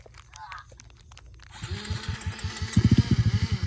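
A motorcycle engine starting and revving in short, rising bursts during an informal drag ride, close and loud, building into rapid throttle blips toward the end.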